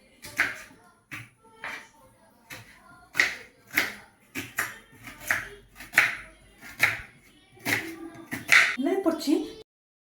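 A knife chopping curry leaves on a board while cooking Mangalorean chicken curry: a steady series of close, crisp chops, with one or two quick flurries near the end.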